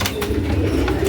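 A racing pigeon coos close by in a few short, soft pulses over a steady low background murmur.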